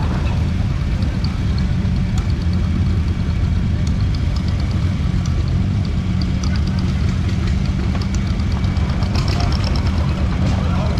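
A Farmall C tractor engine runs steadily in a parade at the Oklahoma Steam and Gas Engine Show in Pawnee, a continuous low mechanical chug amid outdoor crowd noise, with an announcer's voice over it.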